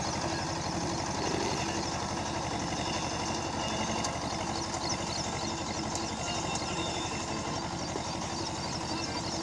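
An HMT 2522 tractor engine idles in a steady, rumbling throb with a fast regular pulse, continuous and close, with no talk over it.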